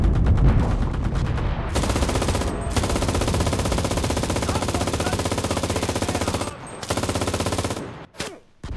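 In the video game Enlisted, a beach invasion played on the Axis side, a machine gun fires in long, loud, rapid bursts close by, with short pauses between them and an abrupt stop near the end.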